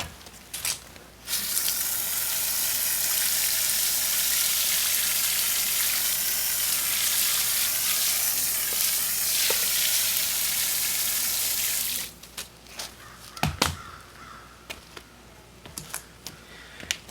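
Water spraying steadily onto a flagstone step outdoors, a loud continuous rushing hiss for about ten seconds that cuts off, followed by scattered drips and splashes.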